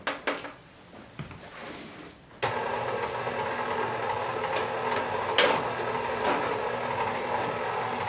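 A 10-speed stand mixer kicks on at first speed to knead pita dough, a few clicks and knocks giving way to a steady mechanical whir and hum that runs on close and continuous.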